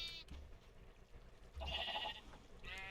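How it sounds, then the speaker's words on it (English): A pink sheep in the Minecraft video game bleats twice, first in a brief burst and then a longer, louder wavering bleat, followed by the start of a third; the bleats are close and clear with no talking. "Baby pink sheep!"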